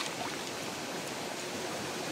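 A strong stream of water rushes through a forest, a steady broadband roar with no pauses, fairly close and even in level from start to finish, without any talking.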